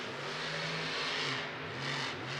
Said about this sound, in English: She has got those RPMs up. That truck sounds so good.